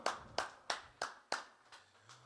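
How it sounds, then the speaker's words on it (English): Six or seven sharp, evenly spaced hand claps from a single person, close and fairly quiet, with short decays between them at a gospel music online seminar. "Let's have a virtual round of applause for"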